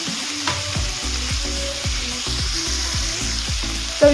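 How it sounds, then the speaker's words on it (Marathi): Mixed vegetables and peas sautéing in hot oil for a Bhogi mixed vegetable dish give a steady, close, loud sizzle with recurring stirring scrapes throughout and no talking. "त्याला एक दोन मिनटं परतून घ्यायचं तेलामध्ये पाहायचं इथं वटाणे पण याच्यामध्ये घालून घ्यायचे"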